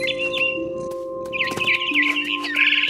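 A mother bird chirps in a big tree in the video game What Remains of Edith Finch, bright scattered tweets and trills over a steady low tonal hum.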